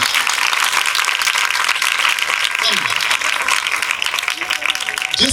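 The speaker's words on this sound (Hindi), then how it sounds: "जोरदार ताली उनके लिए होगी" A crowd at a Ram Katha religious gathering breaks into sustained, loud applause for the event's organizing families, a dense steady wash of clapping throughout with a few voices mixed in.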